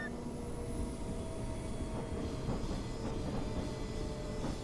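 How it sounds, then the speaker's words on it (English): Diesel train in Train Sim Classic on a South London network route, a steady broad rumble with a faint high whine and soft rhythmic clatter building in the second half, continuous with no voices. "We'll just show as a diesel train."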